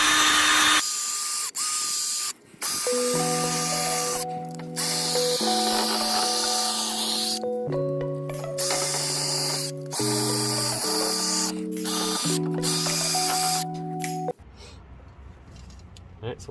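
A drill-driven wire brush cleans out the front wheel hub bearing bore of a 2015 Ford truck, whining loudly in bursts whose pitch steps up and down as the trigger changes, then cuts off near the end.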